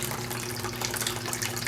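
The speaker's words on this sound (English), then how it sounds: "Kind of sounds like a creek or a little fountain." Water in an Arctic Spa Totem Classic Series hot tub trickles on low jet speed, a soft steady babbling close by and alone, like a small fountain.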